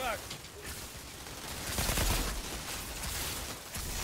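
Gunfire in the game Outriders, bursts of shots crackling steadily and densely throughout, swelling louder around the middle, with a voice speaking at moments.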